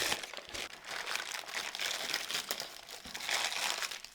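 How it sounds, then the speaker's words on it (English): Parchment paper crinkles and crumples steadily while being pressed into a nonstick-sprayed silicone baking pan for homemade Twix bars: close, continuous rustling with a few sharper crunches and no talk. "Then I'm going to line it with some parchment paper."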